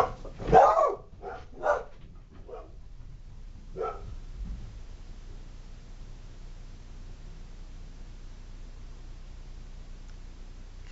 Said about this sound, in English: They run out and bark when somebody's just walking past the house.